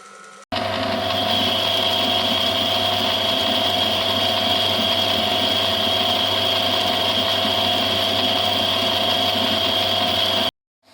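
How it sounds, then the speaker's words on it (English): Metal lathe boring a hole in a bushing starts up and runs with a steady, loud mechanical whine and hum for about ten seconds, then stops abruptly. "The hole is then bored."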